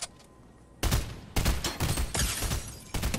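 Rapid bursts of automatic gunfire in the video game Fortnite, loud close volleys in several separate clusters after a quieter opening, with short gaps between them.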